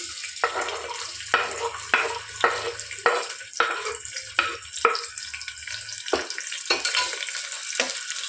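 Thinly sliced small onion frying in a pan of hot oil, a steady close sizzle broken by repeated stirring scrapes and clatters at a loose rhythm, with no talk.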